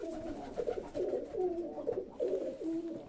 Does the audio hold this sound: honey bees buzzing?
no